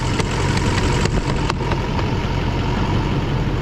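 A vehicle engine idles steadily and evenly, its low rumble unbroken throughout, with a few faint ticks and clicks near the start.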